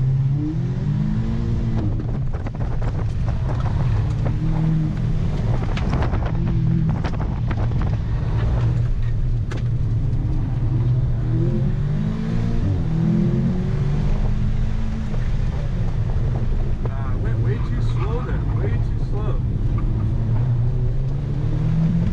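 A car is driven hard around a track at a Porsche club event, its engine roaring loudly and continuously through repeated rises and falls in revs, with heavy wind rush over the microphone.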